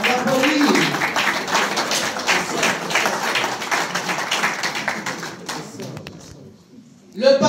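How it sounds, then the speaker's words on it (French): Applause for a party called out at a political gathering in Brussels: dense, sustained clapping from a crowd that runs steadily for several seconds, thins near the end, then swells briefly again. "ACR, on t'applaudit."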